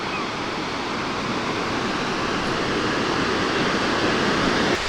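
River water thundering over the second dam at Grand Falls, Newfoundland, a steady broadband roar of falling water that stays loud and unbroken throughout, with no voices over it.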